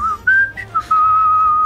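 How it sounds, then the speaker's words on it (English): A single person whistles a short sequence of clear tones, a few quick notes followed by one long steady note, loud and close with nothing else heard. "I'm going to whistle at the monster from bet."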